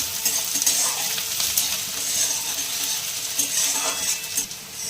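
Onions fry in a pan with a continuous close sizzle, broken by a few scraping stirs and light metallic clinks, with no talk.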